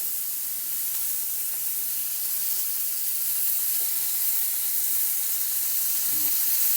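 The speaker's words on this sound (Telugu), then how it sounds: "కొంచెం ఆయిల్ వేసేసుకొని కాల్చాలి." Paneer tikka pieces roast in oil in a pan with a steady, bright sizzle and hiss that holds evenly throughout, close and fairly loud, with only a faint utensil touch near the end.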